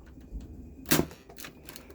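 A Nerf Fortnite dart rifle fires once with a sharp, close snap, and a few fainter mechanical clicks follow.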